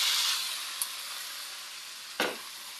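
Mixed vegetables for pinakbet sizzling loudly in a hot pan, a broad continuous hiss that slowly fades, broken by two sharp clinks of a utensil stirring against the pan.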